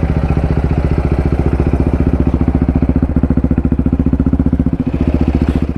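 A Yamaha YXZ off-road side-by-side drives out toward the Silver Lake Sand Dunes, its engine a loud, steady, close throbbing drone with rapid regular pulses and no talk over it.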